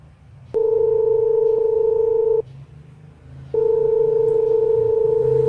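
Two long steady electronic ringback tones sound on a phone while a call is placed, each lasting about two seconds and separated by a pause, clear and close with faint background noise.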